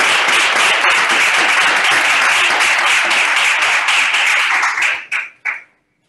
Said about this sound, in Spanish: os agradecería que le diéramos un fuerte aplauso